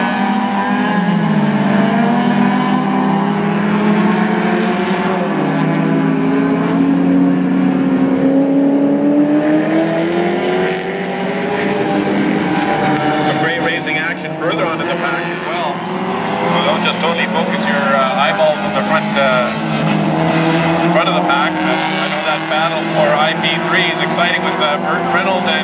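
Closed-wheel race cars, including a BMW, roar continuously around the track at Mission Raceway, engines droning and shifting pitch as they pass, with a commentator talking over the racing throughout.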